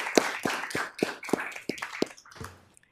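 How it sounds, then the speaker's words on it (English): Sparse applause at a board meeting honoring retirees, a handful of distinct, evenly spaced claps from a few people, fairly quiet and tapering off after about two and a half seconds. "Give them all a round of applause."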